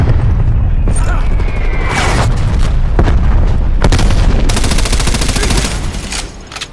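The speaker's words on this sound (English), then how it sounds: "Targeting detected. Artillery inbound." Artillery strike explosions in Call of Duty: Black Ops Cold War, a loud continuous barrage of booming blasts and crackling gunfire that fills the whole clip and thins out slightly near the end.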